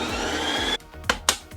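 A Ninja Creami machine respins a tub of low-calorie ice cream, giving a steady loud whirring grind that stops abruptly, followed by a couple of sharp clunks.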